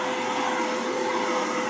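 A DEERMA CM1300W dust mite vacuum cleaner runs with a steady, close, loud motor whir and airy hiss, unbroken throughout.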